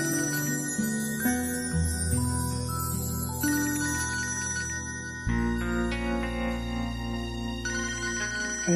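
A telephone ringtone plays loudly and steadily at night, a bright repeating electronic melody that continues without any voices over it.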